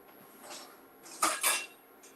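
Onions are tipped into a pan while steak quesadillas cook, making two quick clattering bursts of food and metal against a low kitchen background.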